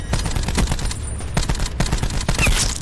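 Rapid, loud automatic gunfire fills a Call of Duty Black Ops 4 match, with dense bursts of shots rattling close and continuous and no voices over them.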